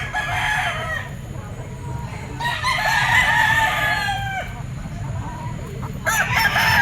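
A stag rooster crows several times and clucks close by, the calls rising over a steady low background murmur at a gamefowl market.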